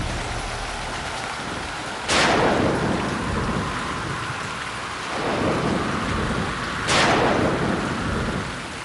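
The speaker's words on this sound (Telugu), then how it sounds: "ఇంత పెద్ద వానలో ఎవరు వచ్చుంటారు?" Heavy nighttime rain pours steadily while two loud thunderclaps crack and rumble, one near the start and another later, over a constant dense wash of falling water.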